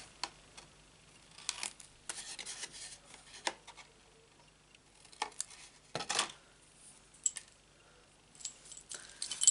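Sticky scissors snip through card while a box is cut and mitred for Stampin' Up blends: a quiet, uneven run of short crisp cuts and papery rustles, close by, with no talking.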